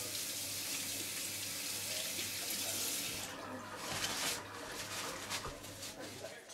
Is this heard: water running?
yes